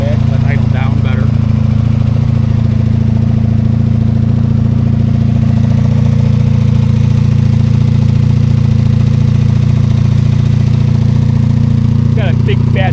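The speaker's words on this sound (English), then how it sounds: "Just pushing the choke off a little bit, let it idle down better." Cheap motorcycle idling steadily after sitting unused for about three weeks, its low engine drone loud and constant with the choke pushed partly off, with a voice talking over it.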